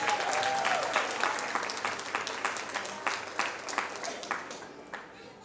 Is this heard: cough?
no